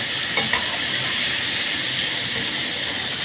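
Cauliflower frying in a pan during preparation of a winter cauliflower and spinach dish, giving a steady close hiss and sizzle that runs evenly throughout with a couple of faint clicks near the start.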